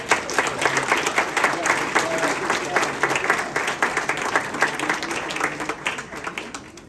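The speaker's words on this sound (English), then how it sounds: "Please give them a round of applause." Audience applause at an award ceremony honoring Georgia officials for national leadership, a steady, dense round of clapping from a sizable crowd that holds for several seconds.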